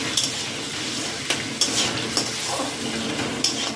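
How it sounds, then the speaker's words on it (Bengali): Spices sautéing with tomato, turmeric and salt in a pan for broken wheat khichdi, a continuous sizzle broken by clinks and scrapes of a spoon stirring, close up with no talking. "এটাকে আমি একটু ভালো করে কষিয়ে নেব।"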